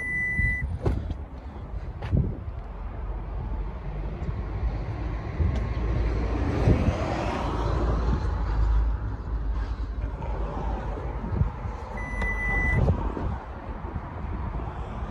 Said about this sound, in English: Power rear boot.